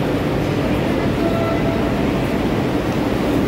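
A train rumbles at Chennai Central railway station, a dense, loud, continuous roar of rolling wagons with faint tonal whines, close and steady throughout without talk.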